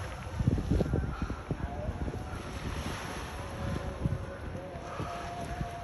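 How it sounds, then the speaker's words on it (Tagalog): Gusty wind buffets the microphone in low rumbling bursts, with surf washing steadily in the background. "Ayun guys, mahangin."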